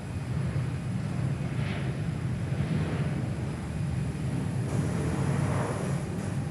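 Boeing 737 on its takeoff roll at Perth Airport, a steady broad jet roar heard from a distance, holding fairly even throughout with no talk over it.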